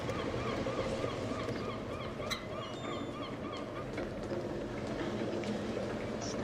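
Geese honk repeatedly in a video game over a constant, busy rush of wind and water-like ambience. The honks come in quick, overlapping bursts at a moderate distance.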